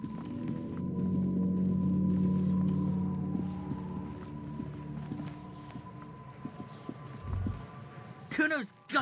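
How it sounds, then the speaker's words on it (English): Steady rain falling in the video game Disco Elysium, a constant wash of patter under a low droning hum, with a voice speaking briefly near the end. "This rain will not let up anytime soon."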